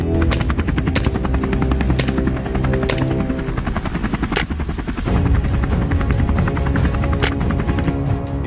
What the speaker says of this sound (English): Helicopter noise can disturb wildlife and affect non-target animals.